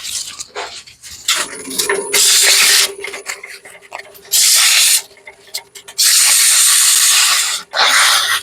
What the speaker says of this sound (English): I'm going to hit it with some 120 sandpaper